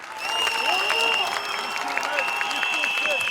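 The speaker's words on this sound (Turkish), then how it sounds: "büyük bir alkış rica ediyoruz" Audience applause fills the open square at a large education rally in Saraçhane, Istanbul: dense, loud, sustained clapping from a big crowd, with shrill whistles cutting through over the steady roar.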